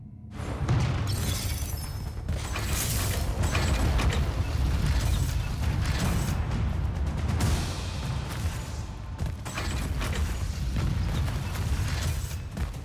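A heavy door mechanism in the fantasy game Immortals of Aveum grinds and creaks open with ratcheting, gear-like clanks over a dense low rumble, loud and sustained throughout.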